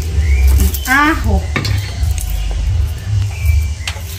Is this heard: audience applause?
no